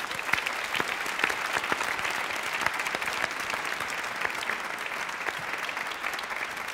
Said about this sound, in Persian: خب کرارم تشویق بکنید مهمون ماست